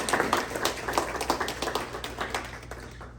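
A small group at a training team retreat claps, distinct individual hand claps in a quick uneven patter that gradually thins and fades, with no talking.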